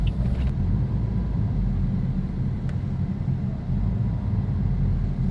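A Toyota Vios on a road test gives a steady low rumble of engine and road noise from inside the cabin, constant and moderately loud with no talking.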